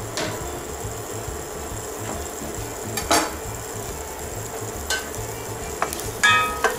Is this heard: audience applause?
no